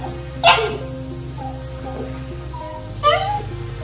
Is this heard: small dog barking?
yes